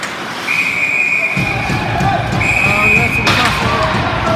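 A referee's whistle at a junior hockey playoff game between the Chiefs and Sarnia sounds in two sharp, sustained shrill blasts over arena noise and crowd murmur.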